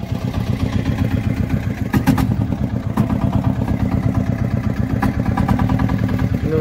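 A motorcycle engine idles nearby at a steady, throbbing rhythm, with brief clicks and clatter layered over the continuous low hum.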